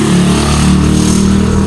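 A motorcycle engine runs loud and close at a steady idle, its exhaust giving a continuous rough, throbbing drone with no change in pitch.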